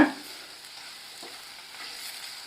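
Mutton bones frying in a pan for a bone curry while being stirred continuously, a quiet steady sizzle with occasional soft scraping from the stirring, opening with a brief louder knock.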